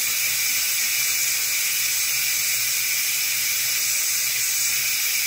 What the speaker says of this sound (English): push that little valve and let it out